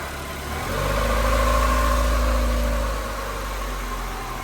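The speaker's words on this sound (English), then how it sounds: "Let's see if it does the idle again." A Honda Civic EK hatchback engine, running with a possible exhaust leak and a little smoke, idles steadily up close, its low drone swelling briefly in the middle before settling back to an even idle.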